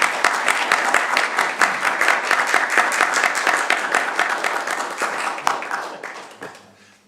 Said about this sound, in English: you're going to greet them with rapturous applause